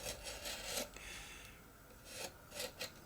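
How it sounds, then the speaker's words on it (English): Balsa wood being trimmed along the edge of a ring while fitting the motor to a Warbirds Replicas FW190 model, heard as soft, close rasping scrapes in several irregular strokes with short pauses between them, with no voices. "trim along the edge here where the ring meets the balsa"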